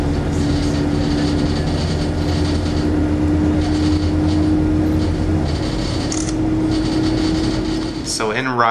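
Steady, loud rumble of a train riding along the rails in Denmark, heard from inside with a constant hum and faint clatter, ending with a brief squeal.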